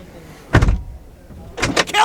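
A Ferrari Roma door shuts with a dull thump, followed about a second later by a second closing thud and rustle, recorded close inside the car.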